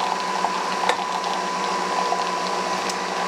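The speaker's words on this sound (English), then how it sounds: "You'll see my milk is spinning, my coffee is filling." A Nespresso Vertuo Plus brewing coffee while a milk frother spins a cup of milk, giving a steady mechanical whir and gentle bubbling hum with faint clicks, close and continuous with no talking.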